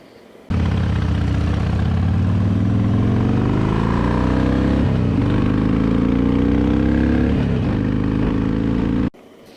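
Motorcycle engine running steadily during a ride, a loud continuous drone with low rumble that shifts in pitch as the rider speeds up and slows, with no talking.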